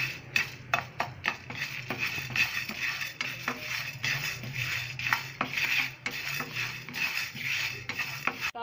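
Whole spices for rasam powder dry-roasting in a pan, stirred with a metal spoon that gives steady close scraping and rattling, with occasional sharper clinks against the pan and no talk.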